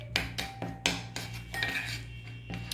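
Spoon clinking and scraping against a bowl while garlic ginger paste is stirred together for chicken shawarma, a run of close, irregular metallic taps and rubs with no talking.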